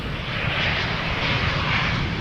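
An Embraer 190 airliner arriving at Amsterdam Schiphol from Hamburg, a close, loud, steady whooshing jet roar with a faintly pulsing hiss, heard alone.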